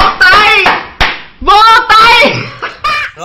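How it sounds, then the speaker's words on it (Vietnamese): Hands clap in sharp, close smacks, several quick claps scattered over a few seconds, mixed with voices and singing at a family gathering. "Vỗ tay."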